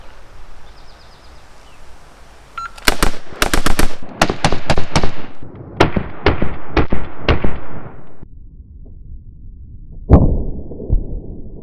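An AR-15 rifle fires a rapid string of loud, sharp gunshots outdoors during a trigger comparison test, with closely spaced cracks and short pauses, followed by one more shot after a quiet gap.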